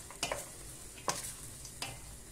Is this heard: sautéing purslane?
yes